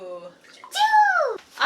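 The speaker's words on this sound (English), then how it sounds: "So I'll help you pour the water." Water poured from a scoop into a bowl of quick oats in a kitchen, two short splashy pours with a voice and adult talk close by.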